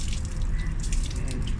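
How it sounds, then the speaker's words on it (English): Water sprays and splashes while rinsing cleaner off a car wheel and rim, a continuous hissing, dripping rush heard close up with no voices over it. "we can just rinse off."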